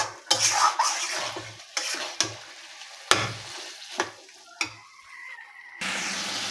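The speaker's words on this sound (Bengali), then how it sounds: "এগুলো খুব ভালোভাবে নাড়াচাড়া করে মাংসের সাথে মিশিয়ে নিচ্ছি।" Mutton with spices stirred and fried in a pan, village style. Close, repeated scraping stirs punctuate a steady sizzle, with no one talking.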